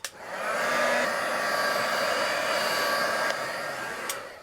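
A hair dryer blows steadily and loud up close, drying a mixed media book page, its even whooshing roar holding for several seconds with a couple of faint clicks near the end.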